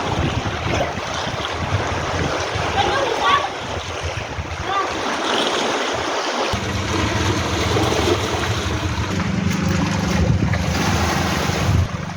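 Surf washing steadily onto a beach near Brgy. Magsaysay, Almagro, Samar, a continuous close roar of breaking waves with gusty wind buffeting the microphone throughout.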